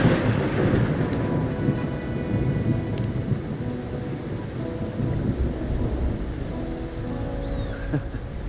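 Steady rain and rolling thunder in the video game Wuthering Waves, a dense hiss of falling rain with low rumbles and a few sharper cracks, continuous and fairly loud with no voices.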